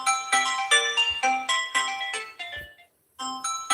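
A phone ringtone plays close by and loud as a repeating melodic chime, several bursts with a short gap before it resumes.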